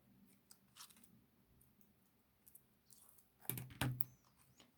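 Scissors snip off excess tape in a few short, sharp cuts, with the loudest pair of snips near the end over quiet handling noises and no talking.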